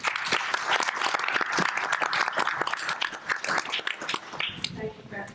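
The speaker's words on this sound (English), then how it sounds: "Let's give her a nice round of applause." An audience at a candidates forum claps steadily for the incoming moderator, a dense wash of close applause that tapers off near the end as a voice begins to speak.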